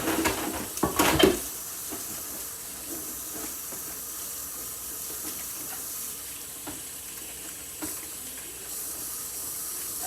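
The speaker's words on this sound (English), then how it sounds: "I'm gonna wash this pan here" A pan gets washed in a home kitchen: a burst of clattering and splashing under running tap water at the start, then a softer steady hiss of water with occasional light knocks.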